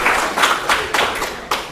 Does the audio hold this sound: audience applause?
yes